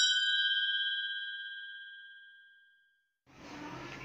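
A notification bell sound effect rings once with a clear bright ding, then its tone slowly fades over about three seconds before a short silence and some quiet background noise.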